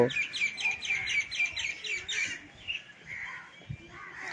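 Small birds chirp in front of a temple in quick, repeated high tweets for the first couple of seconds, then softer scattered calls continue over a faint background.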